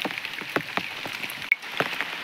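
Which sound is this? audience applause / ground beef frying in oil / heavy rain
heavy rain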